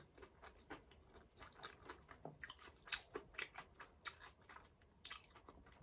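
Crunchy bites and chewing into a cheesy Taco Bell taco with a fresh-made shell, a run of close, irregular crisp crunches and mouth sounds with no talking.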